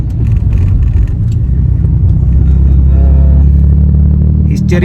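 A Mercedes-Benz E350 in showroom condition drives along a road in Kerala, its engine a loud, steady low rumble heard close from inside the car, with a person talking over it.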